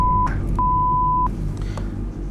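A censor bleep covers a spoken home address on an Indonesian talk show, as two steady pure-tone beeps over low background hum, the second longer than the first.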